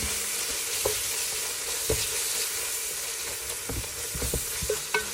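Goat meat being stirred with ground masala in a hot pan, a steady sizzle of frying underneath scattered scraping clicks of the spoon against the metal, moderately close with no talking.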